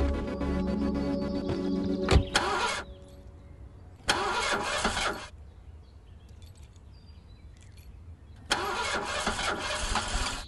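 A car engine cranks and tries to start in repeated bursts separated by quieter pauses, loud and close, with no talking.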